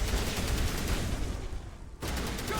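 Sustained gunfire in the Mass Effect Legendary Edition video game, a dense rattling fusillade of rapid shots that drops out for a moment before resuming just as loud.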